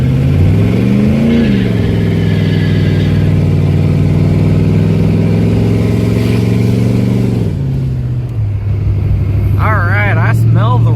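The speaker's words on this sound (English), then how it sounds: "So all you gotta do is hold on to the brake, floor the gas pretty much" Car burnout with the brake held and the throttle floored: a loud, sustained engine roar that climbs in pitch then holds steady, dropping near the end as the revs ease, with harsh tyre-spin noise mixed in throughout.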